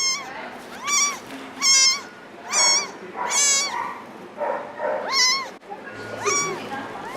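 A rescued kitten in Malaysia meows close up, about seven high, drawn-out cries in an uneven rhythm with short pauses between, over faint low background noise.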